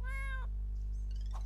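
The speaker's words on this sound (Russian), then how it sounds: "Привет, абсолютно нормальный кот." A cartoon cat gives one clear, drawn-out meow up close over a steady low hum, followed by a fainter short mew.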